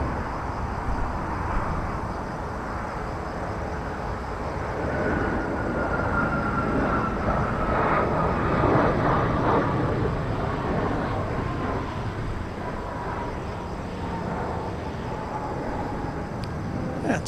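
Jin Air Boeing 737-800 arriving at Incheon from Nagoya, a steady broad jet roar holding at moderate level throughout with a faint whine sweeping across, no talk over it.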